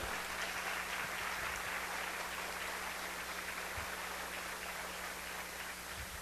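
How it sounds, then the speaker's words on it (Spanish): A church audience applauds during a Catholic sermon with a steady, even wash of clapping that sounds faint and distant, with a low hum underneath and no speech over it. "Un aplauso para Dios."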